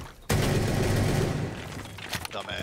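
Desert Eagle pistol fire in a competitive shooter game rings out as a sudden loud blast after a short lull, followed by a dense, booming volley with echoing tails and a few further shots near the end.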